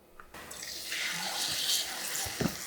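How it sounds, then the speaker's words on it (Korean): Cabbage pancake batter hits a preheated, oiled frying pan with a sudden broadband sizzle that holds steady and fairly close, hissing continuously with a few brief louder crackles near the end and no talking. "예열을 한 후라이팬에 식용유를 둘러서 네, 전을 부쳐 볼게요"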